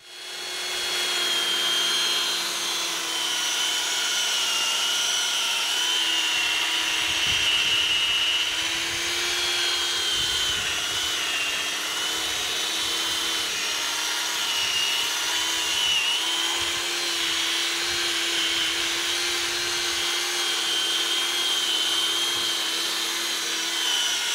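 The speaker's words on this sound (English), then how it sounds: "A second cone-shaped polishing bit was then used to access the areas the ball couldn't" A cordless drill spins a cone-shaped polishing bit against a car exhaust tip, giving a steady, continuous motor whine with a buzzing grind that runs loud and unbroken throughout.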